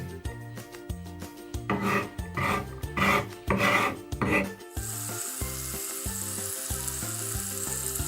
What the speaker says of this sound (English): Tofu's frying.